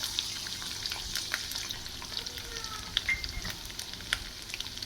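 Garlic sizzles in hot oil with cumin seeds for a bitter gourd stir-fry, a close, moderate crackling hiss with scattered pops and light stirring scrapes, steady throughout with no talk.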